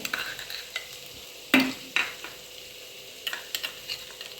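Chilies and spices sautéing for a Shegaon-style khasta kachori filling, with soft stirring scrapes and faint sizzle and a few sharper clinks of a spoon against the pan, no talking.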